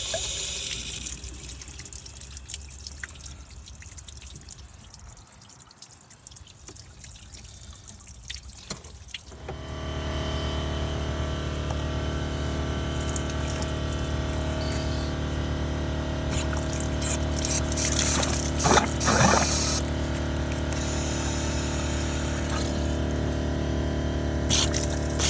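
Water rushes steadily through the heater core of a 2011 BMW 528i F10 during a back-flush, a constant loud hiss and gurgle that starts abruptly after quieter dripping and continues unbroken.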